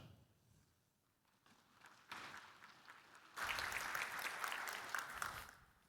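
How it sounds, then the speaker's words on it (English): A conference audience at a legal-tech event starts with faint scattered claps, then swells into full, steady applause that holds to the end. "Oh, I love a good cheer."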